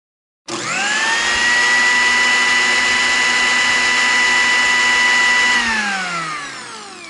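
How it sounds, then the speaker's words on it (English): A kitchen blender whirs steadily at high speed, loud and close with a bright motor whine, running alone for several seconds before winding down near the end. "turn on the blender, make me hear it"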